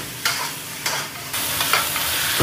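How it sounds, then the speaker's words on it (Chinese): Rooster meat stir-fried hard over high heat in a home kitchen, a loud, continuous sizzle broken by a few sharp bursts as the pieces are tossed, close and without speech. "公鸡就是要这样大火爆炒，炒出来的这个鸡肉才好吃"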